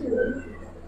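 A brief, close coo from Giribaz pigeons, one low throaty call that fades quickly.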